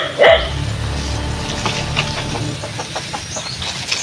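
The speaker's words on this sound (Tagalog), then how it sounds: "Ayun po, may aso." A dog barks a few times in a flooded, muddy rural area, with a short loud burst near the start and quieter yaps and rooster-like calls scattered after it over steady background noise.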